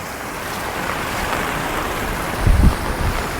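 Floodwater from the Girna dam pours down temple steps toward the temple tank in a loud, steady broadband roar, with a heavier low rumble surging briefly near the end.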